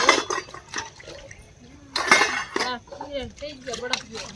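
Dishes and utensils are washed under water, with splashes, metallic clinks and clatters in irregular bursts, while a voice talks in the background.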